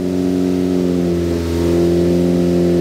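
A Ford Focus ST built engine holds a steady raised idle at 2,500 RPM during break-in, its even droning hum continuous and close with no revving up or down.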